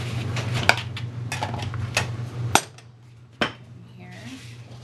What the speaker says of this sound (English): So I'm just going to mix up these ingredients. First, with using a spatula.